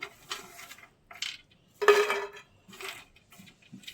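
A utensil clinks and scrapes against a non-stick frying pan while makhana is roasted, coming as several short, close, clattering bursts separated by brief pauses, with no talking.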